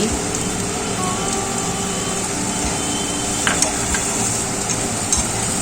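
Chopped cabbage stir-fried in a pan gives a steady, close sizzle with occasional stirring scrapes and clinks, continuous for the whole stretch with no talking.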